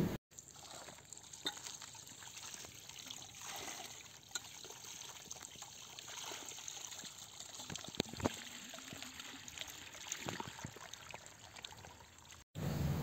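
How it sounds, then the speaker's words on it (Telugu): Water from a motor pump trickles and pours steadily at close range in a field, a continuous liquid splashing that runs for the whole stretch with a few brief knocks and no talking. "అక్కడ మోటార్ ద్వారా వాటర్ వస్తున్నాయి"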